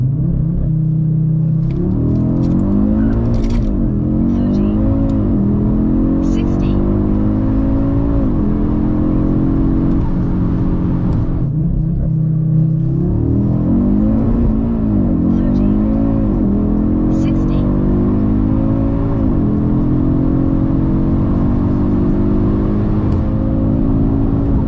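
Audi RS3 in stock form with a PCM tuning box attached, accelerating hard through the gears on a drag run, loud engine with rising harmonic sweeps and two gear-change dips, heard from inside the cabin with some voices underneath.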